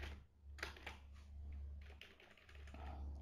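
Quiet, steady clatter of typing on a computer keyboard while entering an awk script, a run of close key taps with brief pauses.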